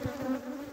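Honeybees drone at a hive in a close, steady buzz, a sustained hum that wavers slightly in pitch over a short moment.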